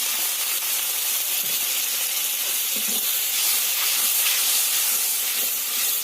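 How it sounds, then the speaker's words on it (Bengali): Water goes into a frying spice paste of turmeric and Kashmiri chili powder, raising a loud, steady hiss of steam and sizzle that holds evenly throughout, with no voices. "এতে দিয়ে দিতে হবে অল্প করে জল যাতে মশলাটা পুড়ে না যায়"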